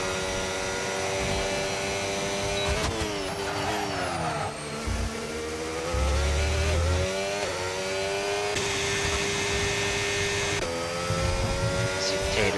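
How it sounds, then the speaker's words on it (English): Race car engines scream in a racing video game, loud continuous high-revving whine that climbs and drops through gear changes, with shifting pitch as cars pass. "do the engines sound basically the exact same as 24?"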